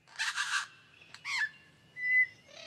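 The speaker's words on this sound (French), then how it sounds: "magnifique oiseau lyre, aussi appelé ménure superbe." Loud rich warbling calls alternate with clear whistled notes and a sharp sliding phrase, a superb lyrebird singing fairly near against quiet background.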